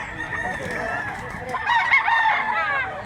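A bullstag rooster with black legs crows once up close, a loud drawn-out call rising and wavering toward the end, with faint background noise.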